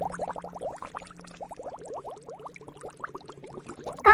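Cola fizzes around an egg soaking in it, a dense stream of tiny popping bubbles crackling continuously and close up, fairly quiet and alone, ending with a brief louder knock.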